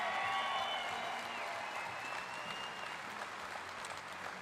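Crowd applause for tournament leader Ott DeFoe at the Bassmaster Classic fishing event, a dense steady clapping that stays loud throughout, with faint whistles early on.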